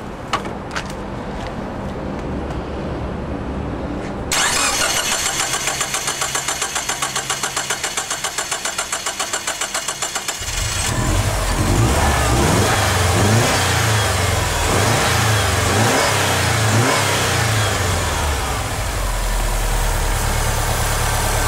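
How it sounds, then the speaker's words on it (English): A Subaru engine cranks and catches, then runs loud and steady with a rough idle and some revving, close by and without any talk. "I'm going to start the engine"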